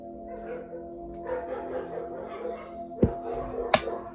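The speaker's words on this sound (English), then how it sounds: "I am so over these dogs" Dogs barking in the distance, a few muffled woofs under a steady background hum, then two sharp nearby clicks or snaps.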